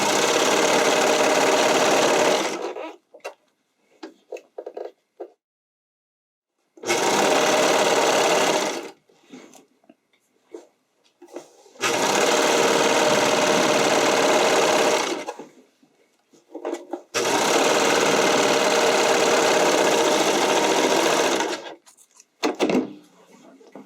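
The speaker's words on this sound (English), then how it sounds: "Anytime you readjust, you want to stop your machine before you move, and just go again." Sewing machine stitching wide elastic onto a spandex waistband, four bursts of loud steady whirring, each a few seconds long, separated by pauses with small handling clicks and rustles as the fabric is readjusted.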